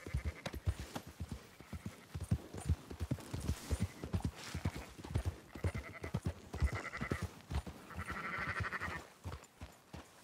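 Sheep bleat amid the steady clip-clop of a horse as a flock is rounded up and herded in the Red Dead Redemption 2 video game, with dense, busy hoof rhythm running throughout and bleats rising above it.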